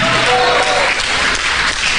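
A crowd claps steadily throughout during a church service, a dense wash of applause with voices mixed in underneath.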